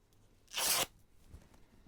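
Scissors or a blade cutting through scrap fabric for a junk journal, one loud, short, close-up shearing rip of about a third of a second, followed by quiet handling.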